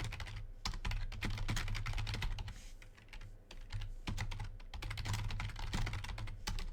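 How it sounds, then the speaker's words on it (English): Rapid, uneven typing on a computer keyboard fills the whole stretch, dense clusters of close-up key clicks with brief pauses between bursts, over a low steady hum. "Typing and monologuing at the same time I'm not quite proficient at"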